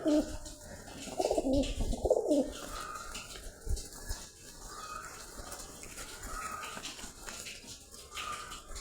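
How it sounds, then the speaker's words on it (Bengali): A female pigeon with a crooked, chipped beak gives a few low, throaty coos close by at the start, followed by quieter rustling and faint background noise. "এটা আমার নিজের বাচ্চা করা কবুতর।"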